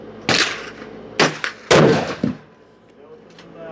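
Sharp rifle reports fired at a target at an outdoor range, one loud crack followed by a couple more bursts and a short echoing tail, with no talking over them.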